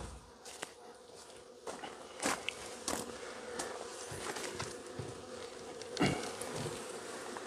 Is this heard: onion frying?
no